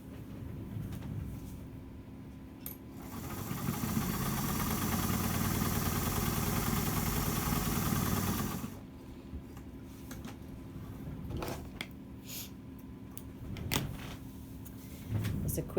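Sewing machine stitching the seam of a fleece-style slipper, a steady whirring run of about six seconds that starts and stops abruptly, with quieter handling sounds around it.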